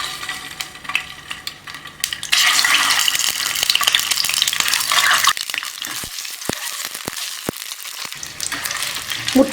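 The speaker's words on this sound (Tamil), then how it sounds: "எண்ணெய் காஞ்சிருச்சு, வேக வச்சு எடுத்து வச்ச முட்டை இதில் போட்டு நல்லா ஃப்ரை பண்ணிக்கலாம்." Boiled eggs drop into hot oil for a drumstick egg thokku and set off a loud burst of sizzling that eases back, with several sharp clicks of a utensil turning them in the pan and no talking.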